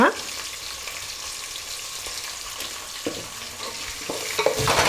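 Tempering for sambar frying in hot oil with a pinch of asafoetida, a steady close sizzle throughout with a few soft clinks near the end.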